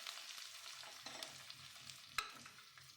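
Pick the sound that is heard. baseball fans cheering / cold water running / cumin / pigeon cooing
cumin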